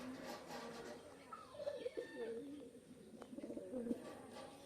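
Pigeons coo in soft, low, rolling bursts, faint and somewhat distant, against a quiet room background.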